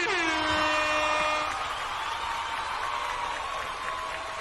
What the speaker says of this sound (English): Here's your air horn.